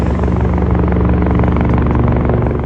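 A helicopter flies over the Al Seef heritage waterfront in Dubai, its rotor drone loud, steady and throbbing for the whole stretch with no pause.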